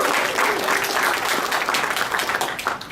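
A conference audience at BigDataCamp 2010 applauds loudly and continuously, dense clapping from a packed room that fades slightly toward the end.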